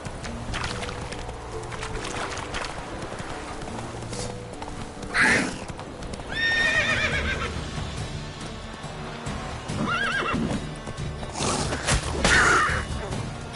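A horse ridden in The Witcher 3 game clops steadily under a rumbling backdrop, with shrill whinnying cries rising briefly several times, including a longer wavering neigh midway.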